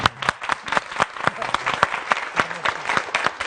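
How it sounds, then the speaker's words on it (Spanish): Applause from a studio audience greeting a guest, sparse, distinct hand claps in an uneven rhythm with faint voices underneath. "un gran aplauso aquí."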